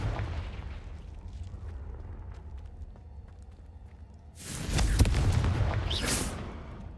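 A Confringo blasting spell explodes in Hogwarts Legacy, a loud broad burst with a rumbling, crackling tail rising out of quieter game ambience and lasting a couple of seconds.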